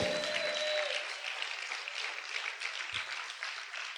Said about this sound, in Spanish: Vamos a gritar y vamos a aplaudir fuerte al Rey.